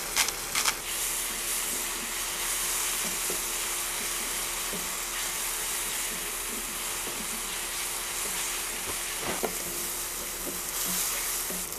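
Chopped onion and tomato sauté in a pan for a creamy chicken curry, giving a steady close sizzle and hiss with occasional scraping stirs throughout.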